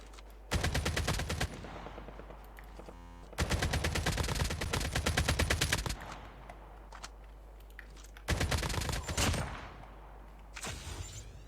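Bursts of rapid automatic gunfire in Call of Duty Mobile battle royale, three long volleys separated by brief pauses, with a shorter burst near the end.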